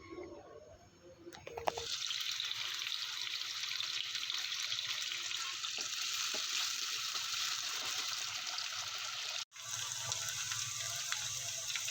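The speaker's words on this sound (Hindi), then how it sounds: "अब हम लोग इसको मिक्स करेंगे अच्छी तरह से, लाइट सा ब्राउन करेंगे जब तक ये लाइट फ्राई हो जाएगी" Pieces of arbi (taro root) fry in a pan, a steady, loud sizzle that starts after a short quiet stretch and drops out briefly near the end.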